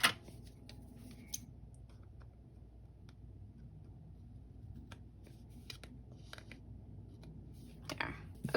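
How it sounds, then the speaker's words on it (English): Scissors snip a small piece off a Disney-themed planner sticker sheet, giving a few sharp close clicks and cuts over a quiet room, with a brief cluster of snips near the end. "I can just like cut this little piece off"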